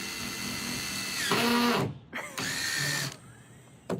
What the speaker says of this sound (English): they're using a drill and screws and they're calling them nails